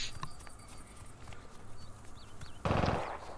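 Sniper gunfire in Cuisine Royale, a single sharp crack near the end rising out of a steady murmur of in-game ambience, preceded by faint scattered clicks and footsteps.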